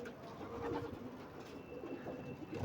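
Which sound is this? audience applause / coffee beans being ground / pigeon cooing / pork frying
pigeon cooing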